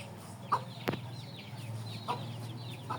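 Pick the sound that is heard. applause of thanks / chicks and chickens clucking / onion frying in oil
chicks and chickens clucking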